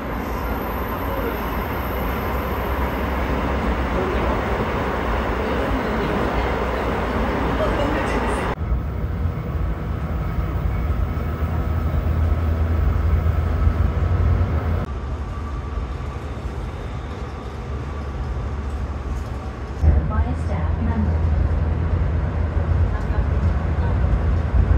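A Seoul metro train carries riders with a continuous low rumble and rolling noise throughout, the car's sound shifting as it moves, while people talk at times over the ride.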